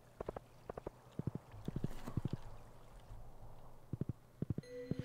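A horse in the Stardew Valley farming game clip-clops in short bursts of two to four hoofbeats, sharp and close, broken by a rumbling patch and a brief jingle near the end.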